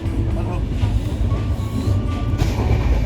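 A Konkan Railway train travels toward Ratnagiri during the Ganpati festival season, heard from on board as a continuous low rumble of the carriage with faint tonal whines and indistinct voices in the background.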